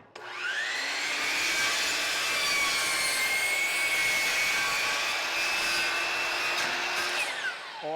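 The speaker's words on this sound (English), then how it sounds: "I can't cut all the way through the plywood, but I'm going to cut what I can." A power saw bites into plywood for a roll-away nesting box build, a loud steady whining cut lasting about seven seconds with a rising start and a tapering finish, no voices.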